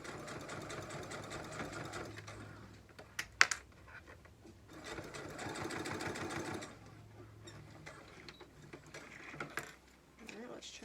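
A sewing machine top stitching fabric, steady rapid needle chatter in two long runs with a brief pause between, close and moderately quiet.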